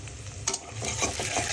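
Sliced taro root (kochur mukhi) with salt and green chillies is stirred in a hot pan, giving a brief sizzle with a few close scraping strokes of the spoon.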